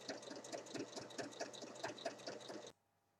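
A sewing machine topstitches all around the edge of a fabric fold-up catch-all tray, 5 mm from the edge. It gives a steady, rapid mechanical whirr for nearly three seconds, then stops abruptly.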